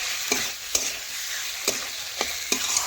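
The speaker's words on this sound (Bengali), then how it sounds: "আবারও ভালোভাবে নাড়াচাড়া করে লবণ চিকেনের সাথে মিশিয়ে নিচ্ছি।" Chicken with salt being stirred in a pan, a steady frying hiss broken by about five sharp scraping strokes of the spoon against the pan, with no talking.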